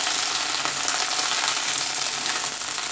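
Chopped onions (savala) frying in a pan for a lady finger curry, giving a steady, dense, close sizzle that holds evenly throughout with no voices.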